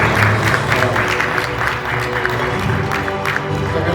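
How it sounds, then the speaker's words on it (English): Audience at a charity fundraising evening gives a round of applause, moderately loud clapping spread across the room with some murmur and low voices mixed underneath. "a big round of applause for"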